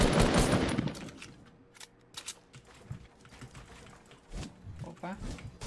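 Rapid automatic gunfire from the video game Fortnite, played duo versus squad. A loud burst opens the clip, then short bursts and single shots follow under excited talk from a player.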